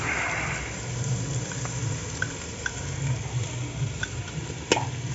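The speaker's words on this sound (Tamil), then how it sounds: "போட்டு நல்லா வணக்கணும்." Ground dried red chilli masala being sautéed in a pan for homemade mutton biryani, a steady close sizzle and frying crackle with occasional stirring scrapes and small pops, no voices.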